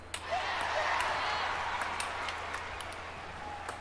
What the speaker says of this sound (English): Crowd go wild and they respond.